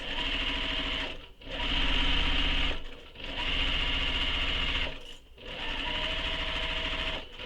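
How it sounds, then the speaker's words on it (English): A sewing machine runs in three long, loud, steady bursts with brief pauses between, stitching a handbag edge closed along the seam allowance. "We're going to sew that edge closed using the seam allowance that is given in the pattern."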